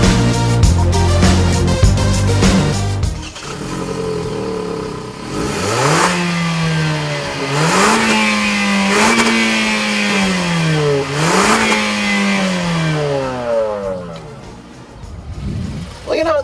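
A 2014 Hyundai Elantra Coupe engine revs repeatedly toward its roughly 6,600 RPM redline, each pull rising then dropping between gear changes, loud and close inside the cabin, with some talk at the start.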